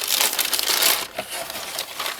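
A plastic bag crinkles and rustles loudly up close, with a burst of crumpling followed by a few softer crackles.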